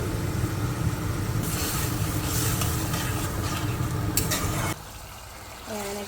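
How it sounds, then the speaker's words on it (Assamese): Ground spice paste for a fish curry frying in a pan, a steady dense sizzle with stirring scrapes that runs for most of the clip before dropping off sharply near the end, leaving a quieter hiss and a few clinks. "মই অকণমান সময় ভাজিম এনেকৈ ভাজি কিনে তাৰপিছত পানী দি দিম"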